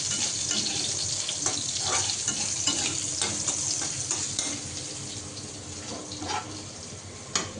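Malabar spinach with soft pumpkin, potato and shrimp simmers in milk in a pan, giving a steady close sizzle and bubbling with scattered stirring scrapes and clicks, no voices.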